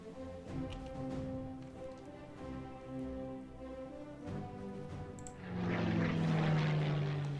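A Spitfire Mark IVB in the wargame Panzer Battles drones with a steady propeller-engine hum throughout, swelling louder near the end.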